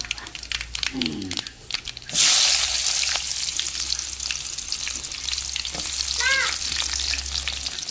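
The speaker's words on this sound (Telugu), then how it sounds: "ఇంకా నూనె పోసిన, పోపు గింజలు వేస్తానా" Tempering seeds hit hot oil in a pan for tomato pappu, setting off a sudden loud burst of crackling, popping sizzle that keeps going after some quieter kitchen clatter, with brief background sounds and no clear speech.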